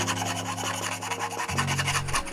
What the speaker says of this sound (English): Now use the file to trim the edge. Because there is no 3D printing, I can only grind it slowly like this.